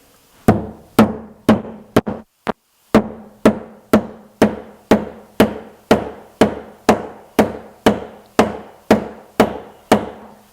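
A part is tapped down to seat it onto an MDF SawStop outfeed table. About eighteen crisp, evenly spaced knocks ring out close by, with one brief pause early on and no voices.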